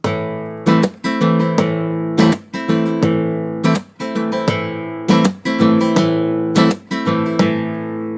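Rhythmic flamenco rumba strumming on a nylon-string guitar, repeated down and up strokes with percussive slaps in a steady driving pattern, played alone.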